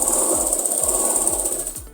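Sewing machine stitching a palazzo seam, a close, steady mechanical chatter with a fast repeating needle beat and a high whirring motor tone, heard alone without talk.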